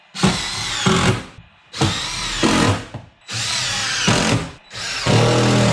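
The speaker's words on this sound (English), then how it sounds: "Let's screw this thing down and try not to screw through the hull." A power drill drives screws into a plywood floor in a 1991 Bayliner boat, sounding in four loud, close whirring bursts of about a second each, separated by short pauses.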